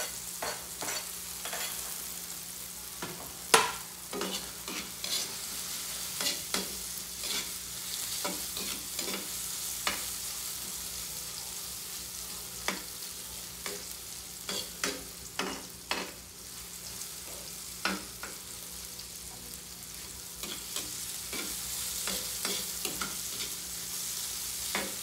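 Ginger sautéing in a pan with tomato, a steady hiss of frying under repeated scraping and clacking stirs that come irregularly throughout.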